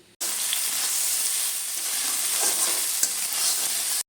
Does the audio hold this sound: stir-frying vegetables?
yes